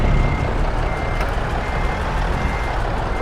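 Truck reversing beeps in American Truck Simulator, a steady backup alarm sounding continuously over loud, broadband engine and road noise in the game.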